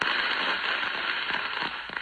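Dense, continuous crackling bursts of fireworks, loud and sustained, with pops layered over a hissing wash and no voices.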